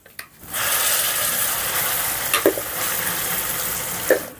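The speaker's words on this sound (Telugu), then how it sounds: "పోపు వేగిందండి." Tempering of mustard seeds, cumin, dry chillies, garlic, curry leaves and asafoetida sizzles in hot oil for ridge gourd chutney, a steady close crackling hiss with a couple of sharper pops.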